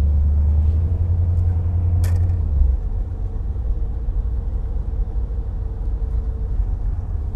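A 1957 Chevy Bel Air with power steering rolls along a road, its low engine rumble steady and close, with a heavier surge in the first seconds before settling into an even drone.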